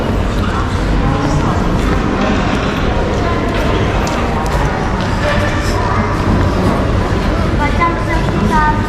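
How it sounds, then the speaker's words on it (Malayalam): Train at Samarkand railway station, a low continuous rumble and clatter on the platform with crowd noise, loud and close. People talk in the background throughout. "അപ്പോൾ ഇവിടെ ഒരു ട്രെയിൻ വന്ന് നിൽക്കുന്നുണ്ട്."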